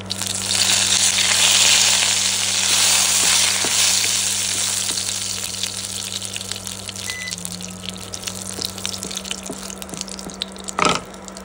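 Bay leaves frying in hot oil give off a steady, dense sizzle that is loudest at first and then slowly fades, with a faint clink of a utensil near the end.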